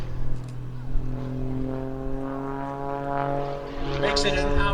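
Wolf Pitts aerobatic biplane flying display at an air show, a steady droning propeller-engine note with strong harmonics that swells and shifts in pitch as the plane maneuvers, loud and continuous throughout.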